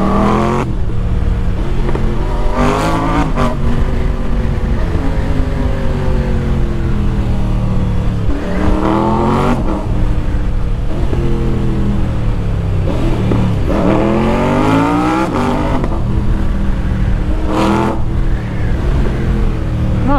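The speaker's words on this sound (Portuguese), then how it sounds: "Vou só deixar vocês. Ouvir o ronco da máquina." Triumph Tiger 900 Rally Pro 2025 motorcycle engine revving hard and close, with repeated rising sweeps as the throttle is blipped and released over a steady loud idle, and no talking.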